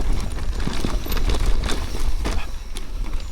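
Santa Cruz Nomad mountain bike rolling over loamy trail, its back end giving off a dense, loud clattering rattle of rapid irregular knocks and thumps throughout.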